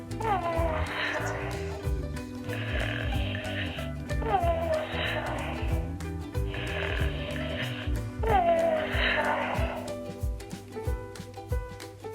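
A toy cat gives repeated electronic meows in a regular pattern over a steady looping tune, fairly close and moderately loud.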